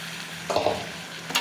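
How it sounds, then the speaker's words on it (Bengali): Potatoes and pointed gourd sauté in a pan with a soft, steady sizzle and a couple of brief stirring scrapes, close and fairly quiet. "এখন আলু পটলটা একটু কষিয়ে নিয়ে জল দিয়ে দেবো"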